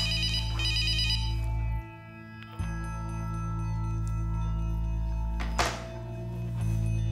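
A mobile phone ringtone plays loudly as a tonal melodic ring that cuts out and starts again, with a thunk between repeats and no one talking, in a scene from a Russian melodrama series.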